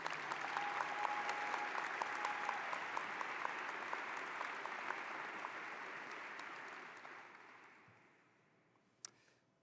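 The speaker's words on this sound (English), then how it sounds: "She deserves another round of applause." A crowd at a university medical school graduation ceremony claps steadily, then the applause fades out toward the end, with a single sharp click near the finish.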